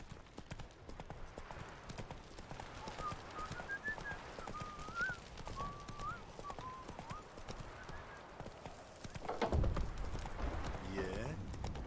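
Roach the horse from The Witcher 3 trotting with steady clip-clop hoofbeats through most of the stretch, a whistle-like tone and a brief whinny near the end, with a voice speaking over it.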